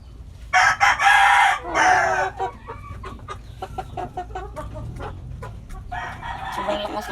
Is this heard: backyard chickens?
yes